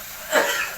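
A person sneezes once at close range, a brief, sharp, breathy burst.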